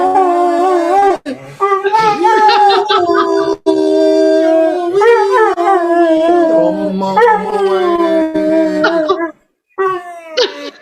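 A pet dog howls along with a person singing, the long wavering howls rising and falling close to the mic, mixed with the singing for about ten seconds before a short pause.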